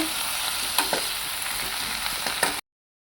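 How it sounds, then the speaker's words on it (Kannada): Ganike greens fry in a pan with a loud, close, continuous sizzle, broken by a few sharp stirring knocks before it cuts off abruptly. "ತುಂಬ ಚೆನ್ನಾಗಿ ಫ್ರೈ ಮಾಡ್ಕೋಬೇಕು"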